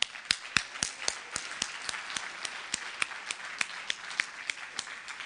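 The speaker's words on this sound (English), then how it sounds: "I think all of you deserve a big round of applause for that." Clapping at a large seminar in the Sandton Convention Center, Johannesburg, rhythmic and evenly spaced like a unison beat, fairly faint and continuing throughout.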